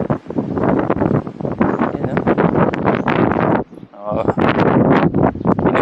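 Strong gusts at a beach campsite in Calatagan, Batangas buffet a tent and the microphone, a rough, roaring rush under a person talking close by, with a brief lull partway through.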